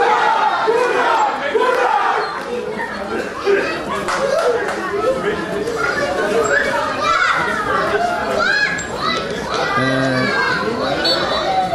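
Crowd of spectators at a football match between East Turkistan and West Papua, a loud dense roar of shouting and cheering with many children's voices and scattered claps, close and continuous.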